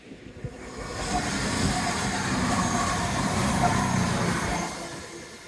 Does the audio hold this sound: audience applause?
no